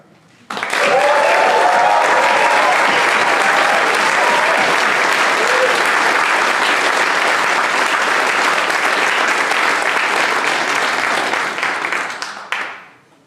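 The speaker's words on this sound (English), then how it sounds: "can we give an applause, a shout, loud enough to hear it in Australia for our sister Ricera?" An audience at an academic symposium breaks into loud, sustained applause with cheering, a thick wall of clapping that runs for over ten seconds before cutting off.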